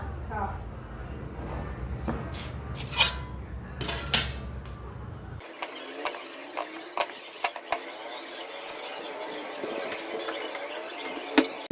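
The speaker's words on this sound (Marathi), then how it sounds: "तर काही ठरल्याप्रमाणे आपण 2 कांदे कापून घ्यायला घेऊया." A knife finely chops two onions on a board, producing a series of sharp, close taps in quick irregular bursts, with people talking around it.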